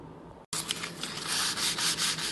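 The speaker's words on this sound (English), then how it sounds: "Using some 180 grit sandpaper, very gently sand it" 180 grit sandpaper rubs gently back and forth over a wood-effect laminate worktop repair, a close, steady rasping stroke after a brief pause near the start.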